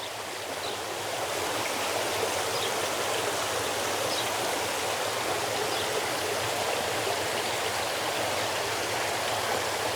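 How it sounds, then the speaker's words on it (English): Water rushing steadily along a stream at a wine estate in Tulbagh, a constant broad hiss and splash close by that stays even throughout, with no voices. "You hear the water."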